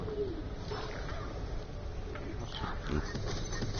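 Bird creatures in the video game Borderlands: The Pre-Sequel coo and grunt in low, muffled calls over a continuous dense game background, moderately loud and without speech.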